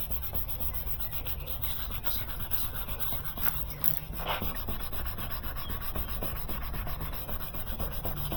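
Wet sanding on a 2014 Mercedes headlight lens produces a steady, close rubbing scratch, continuous and even in rhythm throughout, with no talking.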